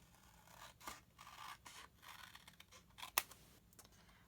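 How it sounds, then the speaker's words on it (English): Scissors snip through paper along a V-shaped line for a twist pop-up card, a few quiet, close cuts with short scraping strokes and one sharper click near the end. "now I'm going to cut along my V"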